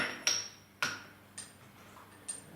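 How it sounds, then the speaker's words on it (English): A four-flute cam being fitted onto a drive pin, heard as four sharp metallic clicks and taps, close and isolated, the first two stronger and the later ones lighter. "off with the 3 flute cam, on with the 4 flute, line up the drive pin"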